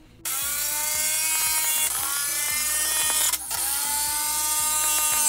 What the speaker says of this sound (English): as I'm firing these screws through, it's not splitting